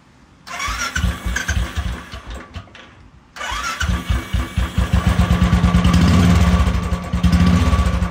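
A second-hand motorcycle in neutral is cranked with rapid chugging pulses that stop, then cranks again and catches into a loud, close, rhythmic idle.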